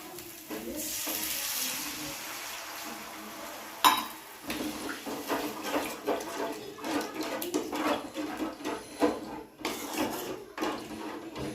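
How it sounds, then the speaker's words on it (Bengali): Water poured into fried spice paste for sorshe potol, a sudden splash and hiss in the pan followed by bubbling, stirring and light clinks of a utensil on cookware. "এবার আমি দিয়ে দেব অল্প পরিমাণ মতো জল।"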